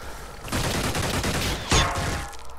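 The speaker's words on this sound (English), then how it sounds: "a bunch of useless plasma rounds that our tank's just going to resist" Plasma rounds fire at a tank in Xenonauts, a loud rapid fusillade of sharp bursts lasting about two seconds, peaking in one heavy impact before tapering off.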